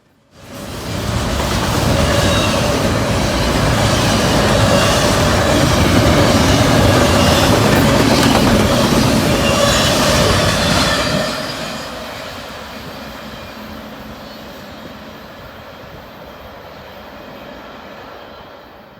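A Norfolk Southern all-intermodal freight train on the Valdosta District in Georgia, led by an AC44C6M locomotive with an ST70ACC trailing, roars past loud and close for about eleven seconds, then its rumble fades into a lingering distant drone.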